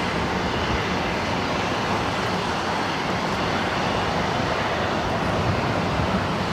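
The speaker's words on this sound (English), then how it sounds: "This flight heading to Guadalajara. It's an A320 Neo" Airbus A320neo airliner at LAX, bound for Guadalajara as flight 511, giving off a steady, loud broadband engine roar that holds even throughout with no voices over it.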